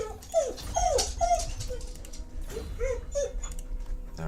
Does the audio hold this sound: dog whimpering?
yes